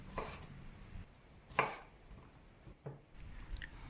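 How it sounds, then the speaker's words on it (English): A knife chops long beans into one-inch sections on a cutting board: about four distinct, fairly quiet chops spaced unevenly, each a crisp thud against the board, with no talking. "I use 3 long beans and cut them into about 1-inch long sections"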